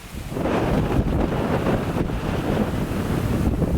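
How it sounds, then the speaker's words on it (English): Strong wind roars steadily across the microphone in a park, a loud continuous buffeting rush with no voices. "the wind is really strong still"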